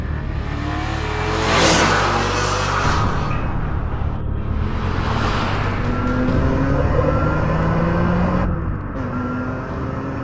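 On a race track, a BMW M3 engine revs hard, the pitch sweeping up and down through repeated accelerations and gear changes. It is loud and sustained, with no talking over it.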